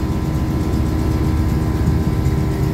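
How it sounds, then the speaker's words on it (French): A car engine runs steadily at a low rumble from inside the vehicle during a road trip in the Loir-et-Cher countryside, with a constant drone and no talk. "Faut qu'on entende un peu le moteur quand même."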